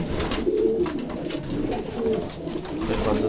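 Domestic racing pigeons coo in a loft, several birds giving low, rolling, overlapping calls close up with soft rustling behind them.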